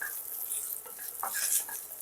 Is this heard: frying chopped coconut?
yes